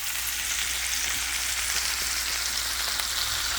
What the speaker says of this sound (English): I'm gonna let that simmer a little bit